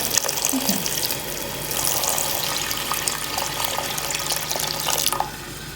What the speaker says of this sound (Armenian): ու ջուր լցնեմ։